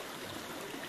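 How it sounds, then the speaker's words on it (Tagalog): A stream at Laki Beach in Mariveles, Bataan flows with a soft, continuous rushing wash, faint and steady for about a second with no other sounds. "Ng tunog ng tubig."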